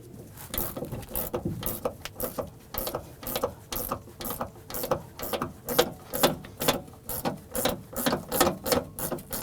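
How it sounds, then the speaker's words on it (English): A gear wrench ratchets on the shaft of a rear shock absorber on a 2008-2011 Ford Focus, giving a steady run of quick, close clicks in regular bursts with no talking. "we're going to use our gear wrench here, and we'll hold on to the top with a pair of pliers"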